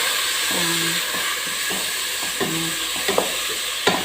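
Tomatoes fry in a pan for kabuli pilao, a steady close sizzle broken by several scraping stirs and a few sharp clicks of the utensil.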